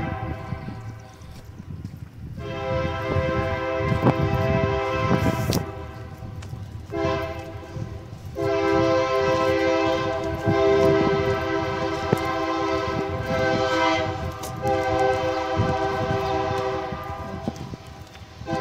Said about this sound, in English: Hey, we got a train coming.